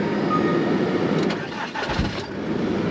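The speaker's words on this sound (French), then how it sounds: "je vais démarrer le fourgon" A camper van's engine cranks and turns over, a low rumble swelling briefly near the two-second mark over a steady broadband hum, heard close up with no talking.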